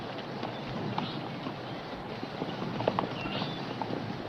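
Horse hooves clip-clop unevenly across the whole stretch, steady moderate loudness, with a few sharper knocks and faint outdoor noise behind.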